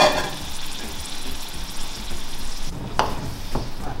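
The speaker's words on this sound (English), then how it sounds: "Let's pour in the onion." Onion and garlic hit hot oil in a pan, giving a strong hiss that settles into steady frying sizzle, with a couple of sharp clinks of a utensil near the end.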